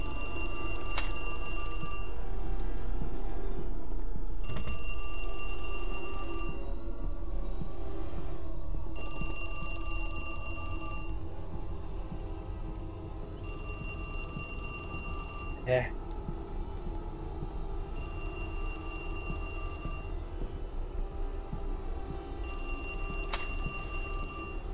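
A mobile phone rings in repeated bursts somewhere in a horror video game, a bright electronic ringtone returning about every four seconds, steady and moderately loud beneath spooky ambience and someone talking.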